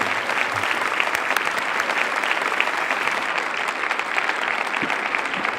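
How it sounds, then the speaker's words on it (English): A large audience at a conference welcomes a guest speaker, the mayor of Jalapa City, with loud, continuous applause that stays even throughout. "Please give him a grand round of applause."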